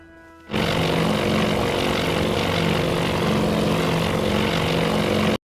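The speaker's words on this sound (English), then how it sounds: "It's one of those new electric aircraft. Very quiet" Steady whirring drone of an electric aircraft flying in the naval strategy video game Task Force Admiral, starting abruptly and holding constant and fairly loud before cutting off.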